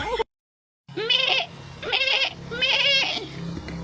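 A human voice imitates a goat's bleat three times, wavering and nasal, each call about half a second long after a brief silence.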